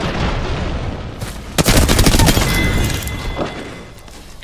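Rapid burst of automatic gunfire in Apex Legends, loud and close, a dense rattling volley lasting a couple of seconds amid other game sounds.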